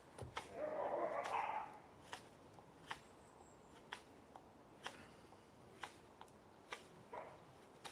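A dog outdoors near an off-grid cabin gives a short burst of barking early on, followed by scattered light taps and thuds, fairly faint and without speech.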